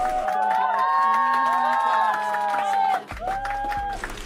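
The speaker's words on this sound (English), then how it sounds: "Give yourselves a round of applause" A live-stream audience cheers and whoops steadily for about three seconds, close and loud, then the sound drops abruptly into a rougher mix of crowd noise and shouting.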